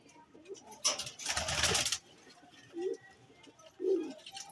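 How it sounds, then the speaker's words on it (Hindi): A Madrasi pigeon gives soft, low coos close by. A brief rustling burst, like fluttering, comes early, and the gentle calls repeat a few times. "बताना भाई कैसा लगा आपको ये कबूतर"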